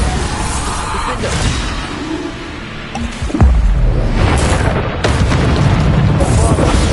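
Bombarda spell cast in the video game Hogwarts Legacy: a loud, deep boom bursts out midway through a constant roar of game effects and lingers in a heavy rumble.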